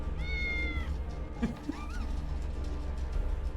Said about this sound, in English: but I'm sure that's a cat meowing.